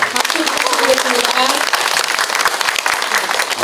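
An audience at a Korean town hall meeting between residents and the mayor of Nonsan gives an energetic round of clapping, loud and dense, with voices mixed in under the sharp claps.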